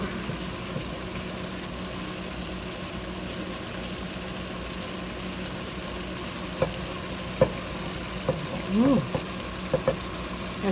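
Italian sausage and broccoli in a pan give off a soft, steady sizzle under a low background hum, with a few scraping stirs and light clinks toward the end.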